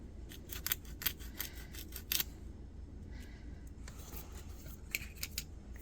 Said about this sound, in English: once I've done it with that file, just to smooth everything out